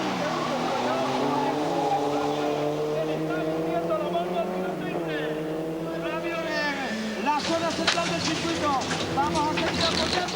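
Toyota RAV4 rally cars race over a rough, bumpy track at the 1996 Race of Champions, their engines droning and rising in pitch under continuous commentary.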